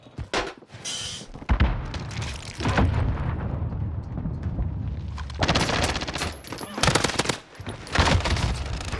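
In Call of Duty Warzone, automatic gunfire rattles in loud, dense bursts punctuated by heavy booming impacts from an RPG, close and intense, with brief quieter gaps between exchanges.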